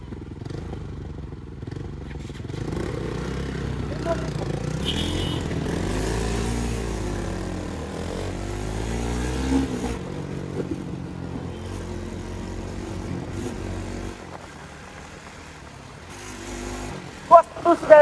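A sport motorcycle with suspected engine trouble runs with a steady, rumbling idle that rises and falls with revs, ending in a few sharp louder bursts, with muffled voices faintly beneath.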